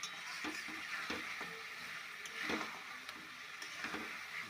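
Meat with ginger stir-fried in hot oil in a pan alongside cauliflower and potato, giving a steady sizzle broken by repeated scraping strokes of a spatula against the pan.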